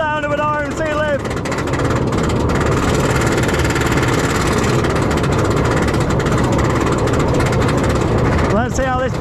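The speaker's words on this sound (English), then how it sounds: "climbing up the lift hill. The sound of an RMC lift." Steady mechanical rumble and rattling clatter of an RMC roller coaster train climbing the lift hill at an amusement park, loud and continuous throughout, with brief voices and whoops at the start and end.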